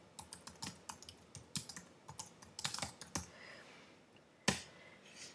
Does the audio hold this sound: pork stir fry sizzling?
no